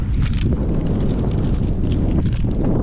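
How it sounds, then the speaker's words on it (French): Strong wind buffets the microphone outdoors on the Syme Hut Track in New Zealand, a steady loud low rumble that fills the whole stretch without pause. "Par contre, le vent."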